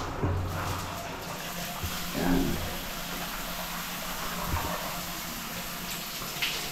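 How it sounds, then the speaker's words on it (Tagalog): Shower water runs steadily inside a tempered glass enclosure in a renovated house, a soft broadband hiss at moderate level with a few faint knocks and no speech. "Shower."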